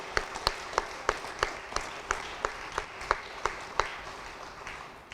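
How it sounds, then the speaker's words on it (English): Sparse, evenly spaced claps from an assembly audience at a political campaign meeting, a steady run of about a dozen sharp hand claps spread across a few seconds, moderately distant, with no talking over them. "Let's have a show of hands or a clap, yes."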